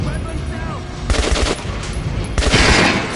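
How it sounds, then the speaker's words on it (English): Bursts of gunfire at a training dummy in the shooter game Metro Last Light, two loud rapid volleys of shots in close succession. "Try shooting for the center of the regular dummy's chest."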